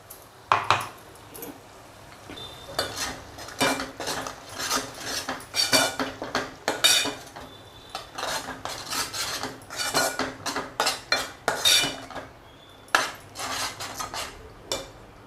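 Ground onion and roasted coconut paste sautéed in a pan, with repeated loud scraping and clinking of a metal spoon against the pan in an irregular rhythm throughout, no talking.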